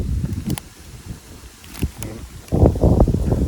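Strong wind gusting through a forest during a walk to find giant honeybee nests: a broad, rough rush that swells and fades in uneven bursts, ending in a louder gust.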